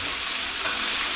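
Peppers fry in a pan with a steady close sizzle, broken by soft scraping as they are stirred, with no talk over it.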